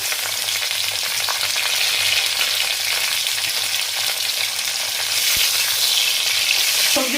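Shukto, a Bengali mixed vegetable curry of fried vegetables with drumsticks, sizzles steadily in a pan, a continuous close frying hiss with a few faint stirring knocks and no talk.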